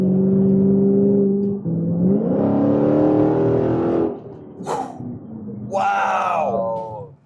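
A Chrysler 300C SRT8 drives on the road with a loud, close engine hum and drone that rises and shifts, then fades as voices talk inside the car.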